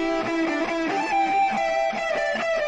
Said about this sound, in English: it'd be called like an octaver, and it sounds like this.